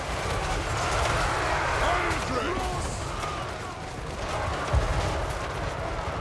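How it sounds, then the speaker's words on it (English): Dense, continuous battle noise from Total War: Warhammer 3 with scattered explosion booms and crackling bursts, steady and busy throughout, one sharper thud near the end. "That's a lot of explosions,"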